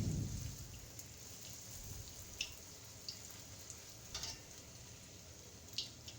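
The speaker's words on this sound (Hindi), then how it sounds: "ये दूसरी पूरी हमने कढ़ाई में डाल दी है फ्राई होने के लिए" Puri frying in hot oil in a kadai, giving a soft steady crackle and hiss with occasional brief pops, faint and continuous with no talk.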